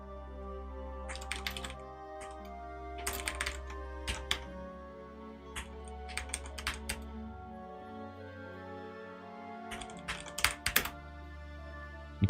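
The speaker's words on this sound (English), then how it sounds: "You can hear that keyboard a bit." Quiet computer keyboard typing in bursts of rapid clicks with short pauses, over a low steady hum from a gaming stream setup.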